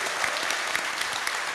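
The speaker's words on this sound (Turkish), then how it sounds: "Alkışlıyoruz." Audience at a hunting workshop clapping together in a short, dense burst of applause, steady and fairly close.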